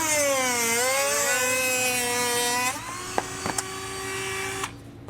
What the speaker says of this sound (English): we're going to take a Dremel tool here